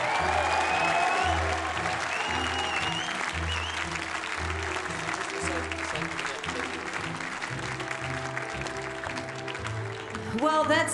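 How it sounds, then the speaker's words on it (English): A large audience at the World Chocolate Masters awards claps loudly and continuously, a dense wall of applause under a thumping background music beat, with a brief louder swell near the end. "Yoshiaki Uezaki, please make some noise!"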